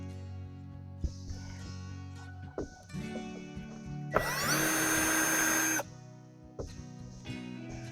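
A power drill spins out bolts on the top of a Furrion air conditioner on an RV, one loud whirring burst of about a second and a half framed by scattered metallic clanks and handling noises.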